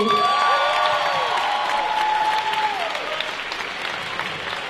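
A crowd at a manga and cosplay festival, Mang'Azur, applauds loudly. The steady clapping carries scattered cheers and whoops, with a few voices rising briefly above it.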